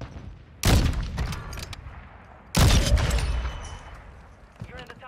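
Two heavy bursts of battle rifle fire ring out in a Warzone 2 match, each loud report trailing off, with a voice talking between the shots.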